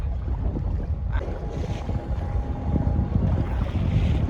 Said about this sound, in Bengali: বৃষ্টি পড়ছে ঘুরি ঘুরি বৃষ্টি শুরু হয়ে গেছে আর বাতাসও উঠেছে খুবই